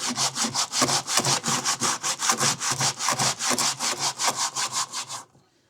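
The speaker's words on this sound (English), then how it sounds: "We got some rough edges, and we could simply hold and sand away." Hand sanding a wooden board with a 5-inch hook-and-loop sanding disc gives a steady run of rasping back-and-forth strokes, close and loud, ending abruptly in silence.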